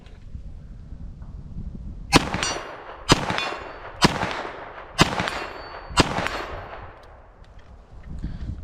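Five sharp, evenly spaced gunshots from a Scorpion pistol caliber carbine fired at targets outdoors, each crack loud and close with a short ringing decay.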